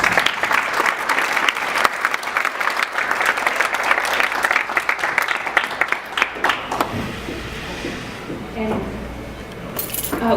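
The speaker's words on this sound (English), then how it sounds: "So a round of applause for them." Audience applause at a 2015 mayoral debate, loud sustained clapping for the candidates that thins out and fades toward the end, with some clinking and murmuring in the room.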